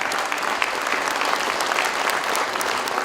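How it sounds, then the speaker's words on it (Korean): Audience at a Chung-Ang University founding anniversary ceremony applauds an award presentation with dense, sustained clapping that stays loud and even throughout. "다시 한번 축하의 박수를 부탁드립니다"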